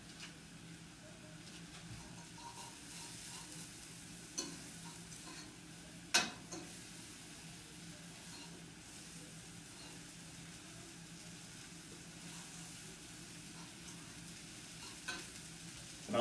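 Sweet peas frying in butter in a pot for an Easter meal, giving a soft steady sizzle with occasional light clicks of a spoon stirring them, one sharper clack midway, no voices.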